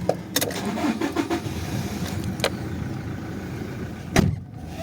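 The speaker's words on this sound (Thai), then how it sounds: "อาจจะลองสตาร์ทเครื่องให้ดูนิดนึงนะ" A 2016 Toyota Hilux Revo Cab pickup with a 2.4 engine starts up, with clicks and a door-like clunk, then a close, steady idle rumble and a sharp thump near the end; no talk.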